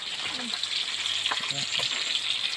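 Marinated food sizzles and crackles steadily in a frying pan, with brief faint voices in the background.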